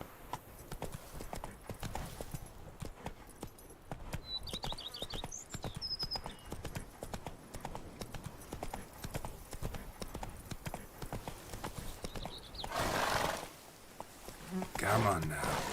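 Roach, a horse in The Witcher 3: Blood and Wine, trots with a steady clip-clop of hooves, joined by faint insect buzzing and brief game sounds, while a voice speaks intermittently over the hoofbeats.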